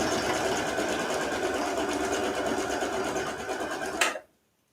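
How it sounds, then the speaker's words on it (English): A sewing machine runs steadily, stitching fabric at a slightly longer stitch length to gather the waistband of beginner pajama pants. The whirring is continuous and close, then stops abruptly near the end. "So I like to just hold it there and start stitching."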